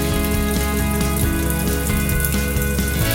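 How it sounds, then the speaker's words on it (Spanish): Water gushes steadily through the inlet solenoid valve of an automatic washing machine under test, a loud constant rush with faint regular clicks, no speech. "aperturamos el paso de agua"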